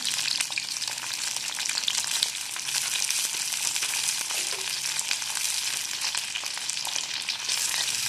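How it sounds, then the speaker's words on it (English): Medium-sized cauliflower pieces coated in turmeric frying in a kadai, a dense steady sizzle with faint stirring sounds throughout, close and fairly loud, no voices. "Let's fry them well."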